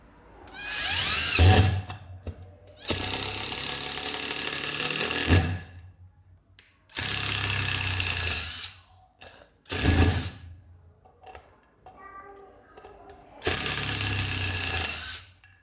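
A Japanese domestic-market cordless impact driver with a one-piece gearbox drives a screw, its soft, fairly quiet hammering coming in four long bursts separated by pauses, close up and without talk.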